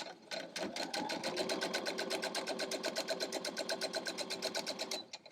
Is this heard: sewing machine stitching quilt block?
yes